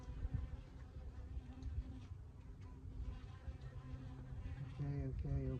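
A faint, steady insect buzz with a soft low hum underneath, close but quiet, as honeybees drone around an open hive continuously without pause during an inspection.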